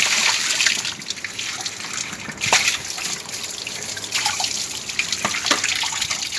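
Tap water runs and splashes steadily into a sink as a freshly etched circuit board is rinsed to neutralize the etching chemicals, a continuous close trickle with occasional drips and clatter and no talking.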